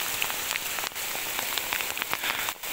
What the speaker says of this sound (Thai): นี่ฝนแรงมากนะครับ